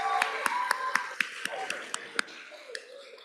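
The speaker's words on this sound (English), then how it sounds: "so let's give her a round of applause" Audience at a SoMAS convocation ceremony applauding an award recipient, a modest round of clapping with distinct individual claps, fairly close, tapering off toward the end.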